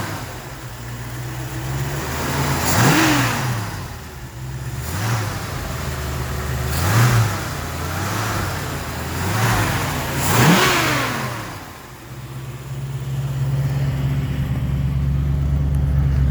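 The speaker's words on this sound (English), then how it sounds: "Go ahead and rev it again." A 1965 Ford Mustang coupe with a 289 C-code V8 idles loudly and close, then revs hard four times in spaced bursts with the pitch rising and falling, settling back to a steady idle between each.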